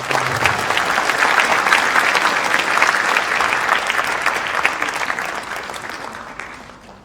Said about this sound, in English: Please give applause to welcome Professor Engel.